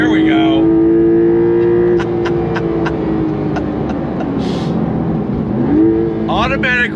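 A 2023 Porsche 911 Carrera T revs toward the red line with a steady rising engine tone, loud and close inside the cabin, then drops briefly as a quick downshift hits near the end.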